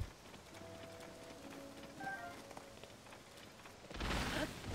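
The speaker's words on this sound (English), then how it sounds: "It's raining again." Rain falling in a fantasy video game, a faint continuous patter with soft tones underneath that swells into a louder rush near the end.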